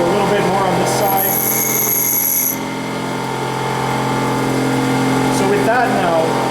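A bench grinder whirs steadily while a twist drill is ground and its chisel edge thinned, with short high-pitched scraping bursts of metal against the wheel over a loud constant motor drone; a voice talks over it.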